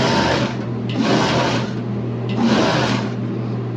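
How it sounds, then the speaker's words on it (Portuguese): A sewing machine stitches elastic onto swimwear, running in two short bursts of about a second each over a steady low motor hum, close and loud. "Seguro o elástico, costuro um pouquinho, puxo."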